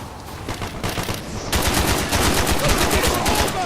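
Automatic gunfire rattles in Call of Duty Black Ops during a winter combat mission, with rapid continuous bursts that grow louder and denser halfway through, close and intense with no pause.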